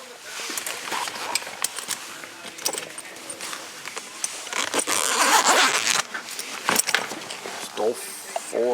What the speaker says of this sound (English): Still zips up just fine every time.